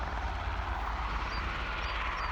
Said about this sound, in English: There is an Airbus helicopter that's just sitting there, doing absolutely nothing, but just has its engines on.